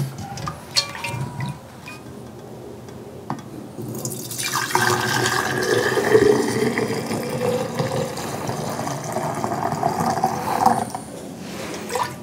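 Lemon lime cream moonshine is poured into glass jars, a steady liquid stream and gurgle that builds partway through, with small clinks of glass and handling around it.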